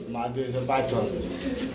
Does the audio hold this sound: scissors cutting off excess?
no